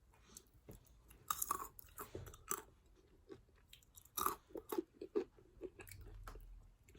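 Someone chewing and biting salted peanuts close to the microphone, with irregular soft crunches and mouth sounds over a quiet background.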